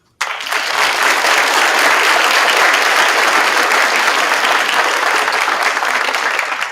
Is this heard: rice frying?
no